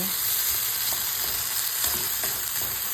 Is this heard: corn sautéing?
yes